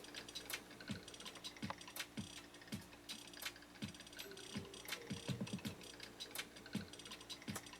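Singer 192K Spartan sewing machine stitching, its mechanism clicking and ticking in a fast regular rhythm with repeated soft thumps, quiet and close, with no talking.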